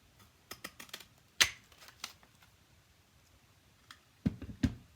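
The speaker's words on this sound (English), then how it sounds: "Stick it back in the punch and just kind of trim it to be even teenier." A paper label punch trims a small label, giving a few sharp, close clicks and snaps, with a firm crunch near the middle and another quick cluster near the end.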